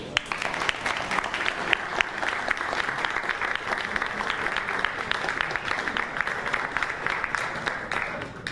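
Steady, dense applause from an audience at a Saint Michel commemoration for paratroopers, sustained evenly throughout without pause.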